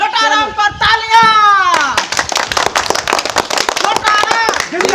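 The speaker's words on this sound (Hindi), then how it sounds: "लोटाराम पर तालियां" A crowd claps for a candidate named Lotaram at a lively election campaign gathering, a dense burst of hand claps and shouts running under loud, overlapping voices and tonal calls.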